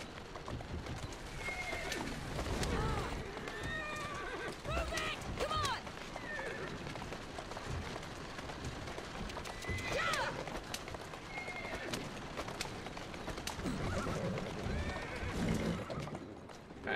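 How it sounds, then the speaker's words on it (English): A horse neighs and whinnies repeatedly over galloping hoofbeats in the video game Assassin's Creed Syndicate, with a voice speaking intermittently and constant game-like background sound throughout. "got run over by my own bloody horse"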